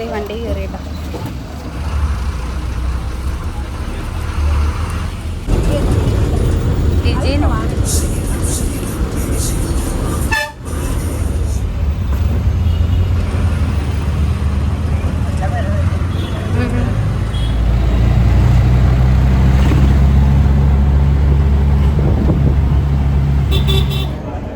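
Riding in a bus: a steady engine drone and road rumble that deepens toward the end, with passing traffic, occasional horn toots and people talking throughout.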